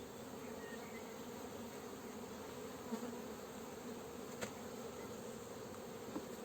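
Steady buzzing from many honeybees at a hive fills the whole stretch, a dense continuous drone with a few faint clicks and taps over it.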